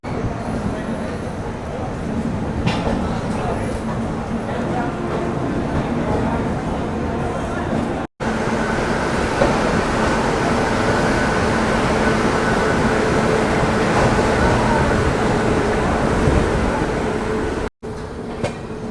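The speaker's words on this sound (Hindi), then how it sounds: "ट्रेन तो अपने अच्छे खासे रफ्तार में चल रही है" The Chennai to Nizamuddin Duronto Express runs at good speed after leaving Jhansi, heard from inside the coach as a loud, continuous rumble and rattle of wheels on track, with voices faintly present under the noise.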